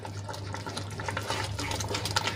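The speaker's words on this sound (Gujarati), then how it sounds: "તો હવે એમાં આપણે સૂજી એડ કરી લઈશું અને સરસ રીતે આપણે મિક્સ કરી લઈશું।" Grated boiled potatoes and semolina being stirred together in a pan, a soft continuous scraping and mixing texture at close range, steady and without speech.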